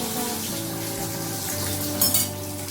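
Fish fries in a pan with a steady, soft sizzle, joined near the end by a short, louder crackling burst.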